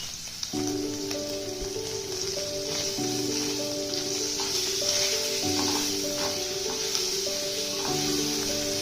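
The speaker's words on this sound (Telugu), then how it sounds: "ఇలా అన్ని వైపులా మంచిగా ఫ్రై అవ్వాలండి." Paneer pieces fry in a hot pan with a steady, loud sizzle that runs unbroken throughout, while a tonal melody plays over it.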